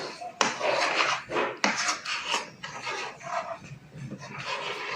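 Play-Doh being kneaded and mixed by hand, a series of soft rasping, squishing rubs in uneven strokes, close and fairly loud, with no talking.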